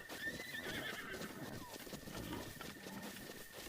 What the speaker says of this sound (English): Makes all the horses run away.